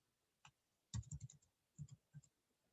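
A few quiet bursts of key presses on a computer keyboard, short clusters of soft clicks separated by pauses, close and faint with no talk.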